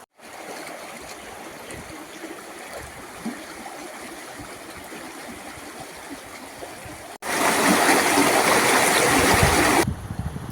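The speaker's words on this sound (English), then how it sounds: "I went to the other side of the lake, where a beautiful river flows into it." A forested river pours into Kaindy lake in the Kazakhstan mountains with a steady rushing babble, growing suddenly louder and closer for a few seconds near the end.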